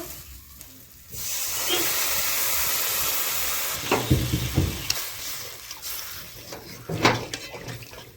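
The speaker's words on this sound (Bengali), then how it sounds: "মশলা ভাজা হয়ে গেছে এখন পরিমাণ মতো জল দিয়ে দিব" Water poured into hot frying spices in a pan for a rita fish curry sets off a sudden loud, steady steaming hiss that then settles into softer bubbling, with utensil clatter and a few stirring knocks close by.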